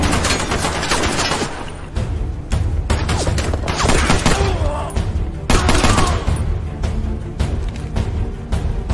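Gunfire in the first-person shooter VR game Bright Memory, loud rapid bursts of shots and booming impacts, dense and almost continuous with short gaps, no voices.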